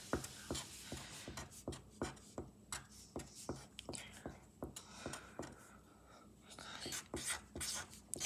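A pen taps out sprinkles on a donut drawing, a quick run of short, regular strokes on paper, close and quiet, with a soft voice speaking over them.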